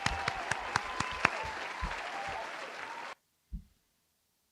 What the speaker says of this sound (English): which we'll give her a round of applause.